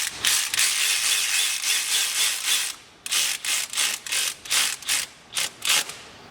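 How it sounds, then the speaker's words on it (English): A ratchet tightens a small bolt on the belt tensioner of a 2008–2013 Subaru, first as a long continuous clicking run, then as a series of short, evenly spaced ratcheting bursts close up, with no talk. "tighten it up. Tighten up that little bolt there"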